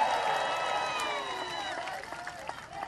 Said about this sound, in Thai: ขอเสียงตบมือเป็นกำลังใจให้กับแพทองธารชินวัตรครับ